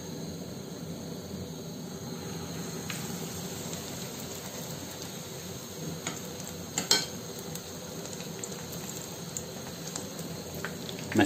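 Swordfish pieces frying in hot oil give a steady, moderate sizzle with crackling bursts, one sharp pop near the middle, and no talk over it.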